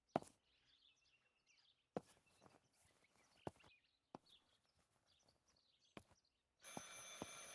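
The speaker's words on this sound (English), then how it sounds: "I should pick up the phone but remain silent." Telephone rings in the video game Martha Is Dead, a few sharp repeated bursts with gaps between them, ending in a sustained ring near the close, over a quiet ambient background.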